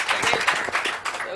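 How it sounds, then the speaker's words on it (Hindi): Audience at a tech day event held in a hotel claps in a short burst of scattered applause, fairly close and loud, with some voices mixed in. "तो एक बार जोर से रवि के लिए ताली होना चाहिए"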